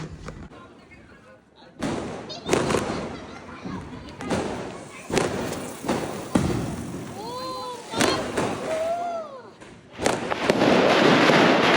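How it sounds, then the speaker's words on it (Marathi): Diwali firecrackers burst in a quick series of sharp bangs and crackles, close and loud, with excited voices and squeals between the blasts. "आता फोडूया फटाके"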